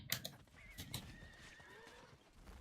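Horse neighing in the Diablo IV video game, a clear whinny trailing off after a few hoof clops, loud and close with no talk.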